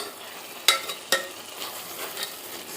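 Almonds, cashews and raisins being mixed into carrot halwa: two sharp spoon knocks against the pan followed by a few soft scraping stirs over a faint low sizzle.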